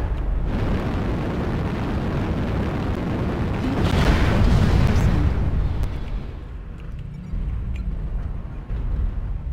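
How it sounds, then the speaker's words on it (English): An airstrike in the MechWarrior Online video game lands as a heavy, rumbling wash of explosions that builds to a loud peak, then thins into lower, fainter rumbles, with no talk. "Airstrike active."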